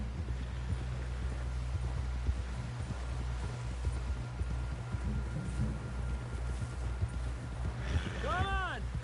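Horse hooves clip-clopping in the Red Dead Redemption video game, a steady rapid trot of hoofbeats running under game music, with a brief rising whinny-like tone near the end.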